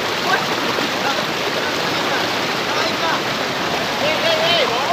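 A mountain river (khola) near Sukhiapokhari via Pokhrebong rushes in a steady, loud broadband roar of flowing water, continuous and close, with faint voices in the background.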